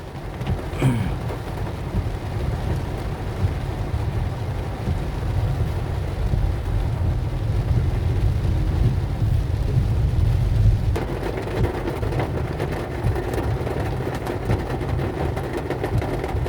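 Steady rain pours down continuously during a passenger-vehicle driving trip, a dense wash of noise over a low engine rumble, with no voices present.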